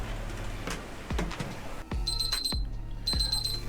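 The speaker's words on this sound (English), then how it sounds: "As you can see, the alarm is going off at 200." A meat thermometer alarm set to 200 degrees goes off during a pulled pork cook on an offset smoker, sounding as repeated high electronic beeping bursts over low rumbling background noise and a few thuds.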